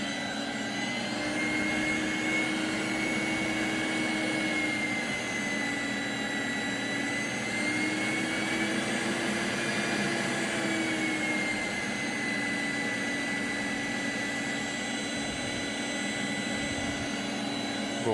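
A Gol airliner jet roars steadily on the runway during its takeoff run, a loud sustained turbine whine and rumble that holds at a constant level from start to finish.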